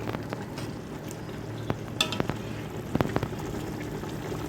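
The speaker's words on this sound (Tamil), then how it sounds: "ஆவி வந்துருச்சு, கிண்டி விடுவோம்." Mutton cooking in a steaming pot for biryani being stirred, a low bubbling simmer under scattered scraping and clinking of a ladle against the metal, moderately close and unhurried, with no speech.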